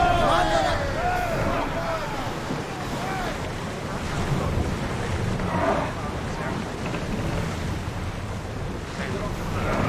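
A sailing ship moves across open sea in Assassin's Creed Odyssey, with waves washing and splashing steadily against the hull and wind rushing past throughout, forming a continuous, fairly loud wash of surf and gusts.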